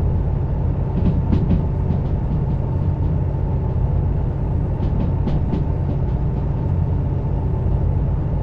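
DH4 diesel locomotive rolling along rails in the Derail Valley game: a steady low engine drone with continuous wheel rumble and a few faint clicks of track joints, no talk.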